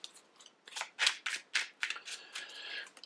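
Deck of game cards shuffled by hand, a close series of crisp riffling bursts in quick rhythm, with no talk.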